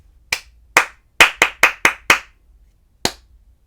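Hands clap a rhythm for a children's music lesson: two spaced claps, then a quick run of five, then one more after a pause, each sharp, close and crisp against near silence.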